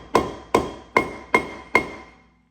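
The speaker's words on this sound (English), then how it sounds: "I don't have a problem just using a regular hammer on it." Five evenly spaced, ringing metal blows of a regular hammer striking a corroded brake rotor on a Porsche Cayman 987 hub, each hit sharp and loud with a short decaying ring, close up and alone.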